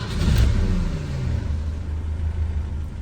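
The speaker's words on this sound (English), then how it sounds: "Currently the engine is cold, and if I start it up" A 2002 car engine starting from cold, a close, loud low rumble that surges at the start and then settles into a steady idle.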